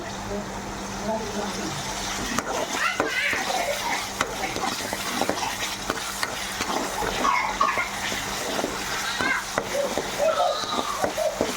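Ginger paste sizzles steadily in a pan of oil while cooking for a village-style tomato chicken, a constant close frying hiss with occasional stirring scrapes and clinks throughout.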